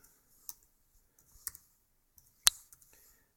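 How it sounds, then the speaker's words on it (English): Faint, sparse clicks from a timelapse camera controller in a quiet room, with a few sharp isolated ticks spaced about a second apart, the loudest near the end. "you'll hear something click over there"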